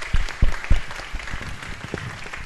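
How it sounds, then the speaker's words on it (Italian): Applause from an audience at an Italian bookstore talk in Florence, a short burst of clapping over a room murmur, moderately loud and fading after a few seconds. "io penso che un applauso vada anche alla casa editrice, l'Asino d'Oro"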